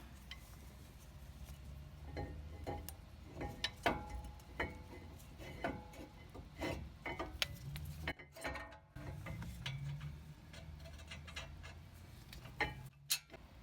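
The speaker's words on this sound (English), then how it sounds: "Now we will put the bracket bolts back on." Brake caliper bracket bolts are tightened on an Acura MDX, with a ratchet tool clicking in irregular metallic bursts and clanks over a steady low background hum.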